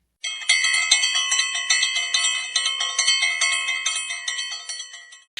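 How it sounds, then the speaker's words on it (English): A small bell on a toy engine rings in rapid repeated strikes for about five seconds, bright and close, each ding overlapping the last before it stops abruptly. "he made the bell ring"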